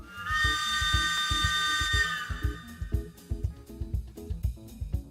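Steam-style train whistle used as a stream alert sounds one sustained, loud tonal blast for about two seconds, then fades into a run of rhythmic clicking and clacking.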